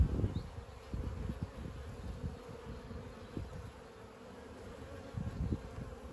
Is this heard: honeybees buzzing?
yes